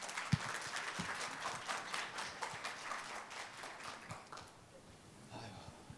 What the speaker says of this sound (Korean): 나석권 원장님을 박수로 맞아 주십시오